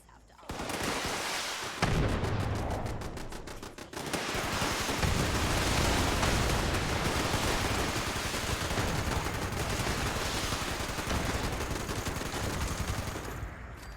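Dense, continuous gunfire from the video game Fallout 76 roars for several seconds. A rapid automatic burst leads into a sustained, loud barrage that fills the whole stretch with crackling shots and fades slightly at the end.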